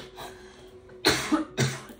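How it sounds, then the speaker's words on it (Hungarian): Two sharp coughs from a person, loud and close, coming about half a second apart after a short stretch of quiet room sound. "nem tudom, hogy miért köhögtem, mert már nem vagyok megfázva"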